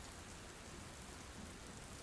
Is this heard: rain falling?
yes